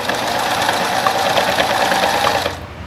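A sewing machine runs continuously while stitching fabric for a small toiletry pouch, a loud, close, steady mechanical whir that stops abruptly at the end, with no talking.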